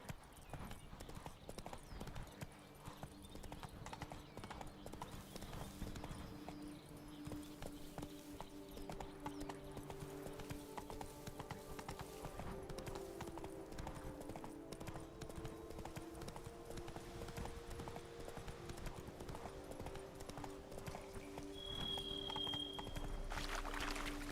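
Horse galloping in The Witcher video game, a continuous fast drumming of hooves under game music and ambient noise, steady and moderately quiet throughout.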